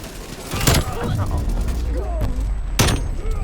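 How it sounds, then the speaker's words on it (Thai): EM2 rifle in Call of Duty Black Ops Cold War, a few loud close gunshots spaced apart with mechanical clicks and clacks of a reload between them. "เอาควักปืนมายิงเอารีโหลด"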